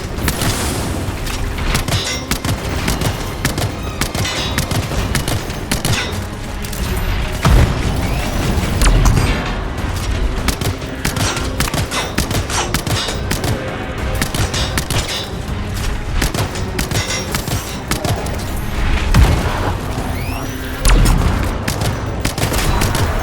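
Weapon fire in the Anthem video game, loud rapid bursts repeating through most of the stretch, layered with booms and mechanical clatter and no talking.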